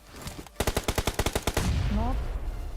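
Rapid automatic gunfire from a battle royale video game: a loud burst of about a dozen evenly spaced shots, followed by a steady rush of game noise with a brief tonal chirp.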